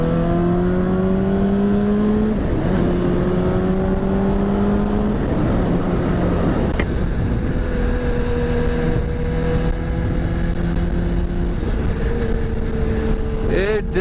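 A Honda CBR superbike accelerates hard through the gears, its engine note climbing in rising sweeps with brief drops at each shift, loud and close over wind noise.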